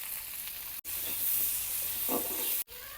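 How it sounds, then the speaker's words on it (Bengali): Potatoes fry with garlic, salt and turmeric in a pan, giving a continuous close sizzle with light stirring and two brief dropouts. "আলুটা হালকা ভাজা হয়ে গেছে।"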